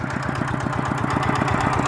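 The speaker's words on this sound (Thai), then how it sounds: "เราใช้รถไถเดินตามเนาะ" Walking tractor engine running in a field of weedy soil, a loud close rapid chugging with an even pulsing beat, continuous and alone.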